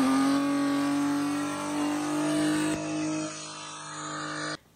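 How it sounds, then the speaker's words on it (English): A BMW E36 325i with an open differential revs hard and loud, the engine holding a steady high drone that shifts pitch midway through a burnout donut, then cuts off abruptly at the end. "You give it some gas, just like a burnout, dump the clutch,"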